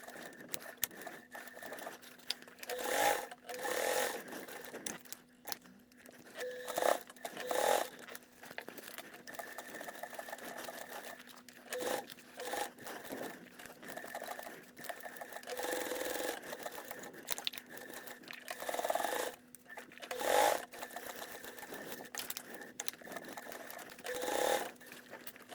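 Sewing machine stitching a small fabric wallet in a bag-making session, running in repeated short bursts with pauses between them, moderately loud and without talk.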